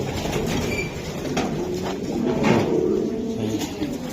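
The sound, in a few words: pigeons, Pakistani high flyer pigeons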